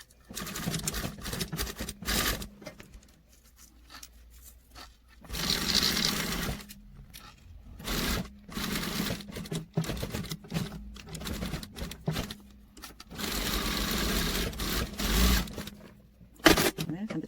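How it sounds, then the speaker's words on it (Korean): A sewing machine stitches around the edge of a reversed jacket in repeated bursts of rapid whirring, close and steady, with pauses between runs and a person talking in the gaps. "스티치를 돌아가면서 스티치 박음질을 해주세요"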